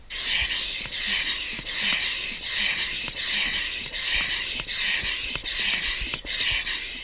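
Repeated rasping whooshes of a hand pump inflating a kite, about ten even strokes in a steady rhythm, close up with no talking.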